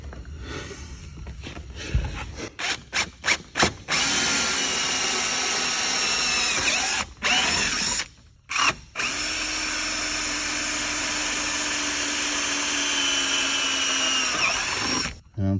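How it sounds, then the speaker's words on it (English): A power drill pre-drills a wooden board, first with a string of short trigger bursts and then long sustained whirring runs broken by brief stops. The drilling is loud and close. "These are necessary to pre-drill."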